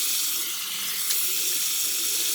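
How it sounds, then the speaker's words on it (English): Tap water runs steadily, rinsing shaving lather off a safety razor with a Bulldog-style handle, a continuous bright splashing hiss with no talk. "Rinse off all the rest of this lather."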